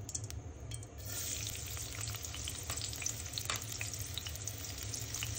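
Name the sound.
bottle gourd with prawns cooking in a pan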